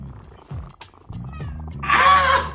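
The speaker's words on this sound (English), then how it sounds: "Meow." Cat meow from the video game No More Heroes, a single drawn-out meow rising near the end over game music, fairly loud.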